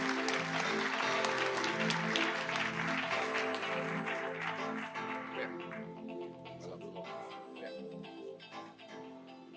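Audience at a conference on generators bursts into applause, loud clapping at first that gradually thins and fades, with faint background sounds underneath.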